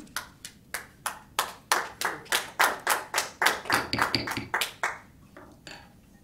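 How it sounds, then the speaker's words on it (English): Clapping at a transit board meeting, a single set of hands giving about twenty evenly spaced claps, growing a bit quicker and denser before trailing off into quiet near the end. "Any kind of applause is really inappropriate"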